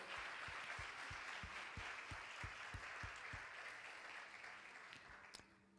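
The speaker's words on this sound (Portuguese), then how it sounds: "Se você crê, dê um aplauso ao Senhor" A church congregation applauds during a sermon, a sustained bed of many hands clapping with a few sharper individual claps standing out, fairly faint and distant, trailing off near the end.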